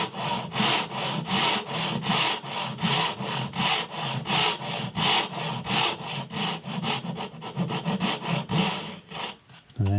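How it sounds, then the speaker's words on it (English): A hand saw cuts a dovetail in wood in rapid, rhythmic back-and-forth strokes, close and raspy, quickening toward the end. "Once you start sawing, you got to match that angle because you can't correct it."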